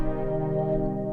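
The PD Fond Dreams synth preset (patch 108), which is velocity sensitive, is struck hard for an aggressive tone. A brief, sustained, rich harmonic chord holds steadily with no talking.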